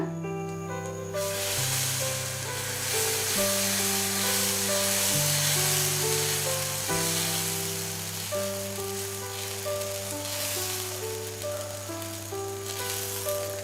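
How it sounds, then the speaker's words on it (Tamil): Adai dosa batter ladled onto a hot tawa sizzles loudly and steadily, the frying hiss swelling as the batter spreads, with no talk over it. "சூடான உடனே நம்ம ஒரு கப் மாவு எடுத்து தோசை மாதிரி ஊற்றுங்க"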